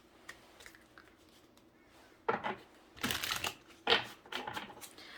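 Tarot cards shuffled and drawn during a reading, a few quiet flicks followed by sharp riffling bursts and slaps of card stock, close by with brief pauses between, no talk.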